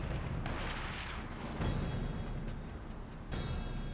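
Sniper rifle shots in Call of Duty: World at War, a few sharp cracks spaced apart over a dense, noisy battlefield backdrop, fairly faint overall.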